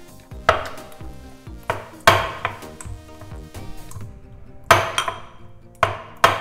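Chilli and tomatoes being pounded for Apatani pilla, an Arunachal Pradesh tribal dish: sharp, loud thuds strike in an uneven rhythm, about seven blows, some ringing with a clinking, woody resonance, with no talk.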